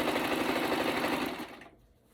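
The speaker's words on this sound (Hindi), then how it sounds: "ये शलवार की स्टिचिंग कर रही हूँ" A sewing machine stitches a shalwar at home, whirring in a steady, fast, close rhythm for about a second and a half before it slows and stops.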